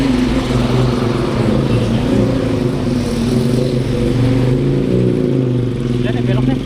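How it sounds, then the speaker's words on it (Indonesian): A garbage truck bound for the Bantar Gebang landfill rolls past on a road near Bojongkulur, Jati Asih, with a loud, steady diesel engine rumble that stays close throughout. "Nah ini truk sampah yang mau buang sampah ke Bantar Gebang."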